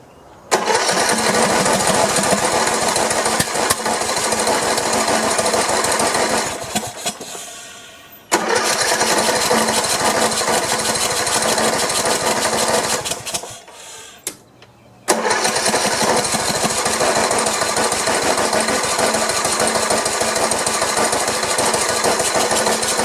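A loud Troy-Bilt Pony riding mower engine roars steadily, sputtering and popping with backfires, cutting out twice before firing back up.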